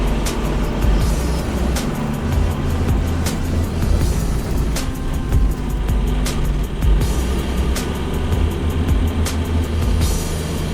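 A bus on a road in Andhra Pradesh, heard from inside as a steady low engine rumble with road noise and repeated sharp clicks or rattles throughout, loud and continuous with no talking.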